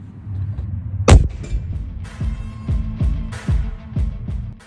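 Unsuppressed shots from a Macavity Arms air rifle: one sharp, loud crack followed by a series of softer, evenly spaced reports and metallic pings, with no talking.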